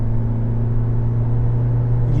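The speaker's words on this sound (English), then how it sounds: "You do get that slightly nasty noise from that four-cylinder" Toyota Prius hybrid four-cylinder engine drones steadily from inside the cabin, a low, even hum with strong low tones and road rumble, constant throughout with no talk.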